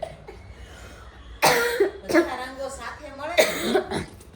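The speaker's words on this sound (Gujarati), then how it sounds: "મમ્મી મને ઉધરસ બહુ થઈ ગઈ" A person coughs a couple of times in harsh bursts, mixed with hoarse vocal sounds, after a quiet stretch at the start.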